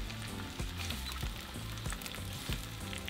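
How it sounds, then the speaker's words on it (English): Tomatoes placed face down in hot oil fry with a steady, close sizzle and light crackling pops throughout. "we're going to place our tomatoes facing down like that. And we're going to fry them for about 1 minute"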